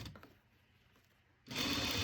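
A sewing machine stitching down the seam of a fitted fabric face mask starts suddenly and runs with a fast, loud, close mechanical whir after a quiet pause.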